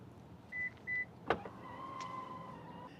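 A car's power window motor whirs as the glass closes in a frosty parking lot, with a couple of short electronic beeps and a sharp click or thump; the sounds are close and quiet, with no one talking.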